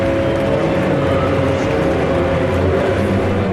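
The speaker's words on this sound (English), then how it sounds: "The number 1 Audi e-tron Quattro crosses the line." The Audi e-tron Quattro hybrid race car at the Le Mans 24 Hours gives a steady, loud, droning engine roar that holds level throughout, with no pass-by swell and no talking.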